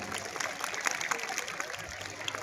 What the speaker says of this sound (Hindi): तालियों द्वारा एक बार पुनः इन छोटी सी प्यारी बच्चियों का उत्साहवर्धन करें